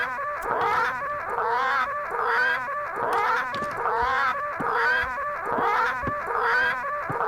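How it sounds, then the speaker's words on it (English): Parrots squawk in the video game Return to Monkey Island, a loud, rhythmic series of harsh calls repeating with no talk over them. "That'll do, parrots."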